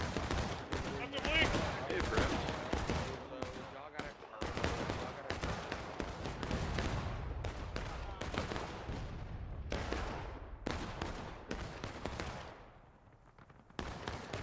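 Massed musket volleys and scattered rifle shots from a Civil War battle game, dense overlapping cracks of gunfire with distant rumble, continuing for the whole stretch before thinning near the end.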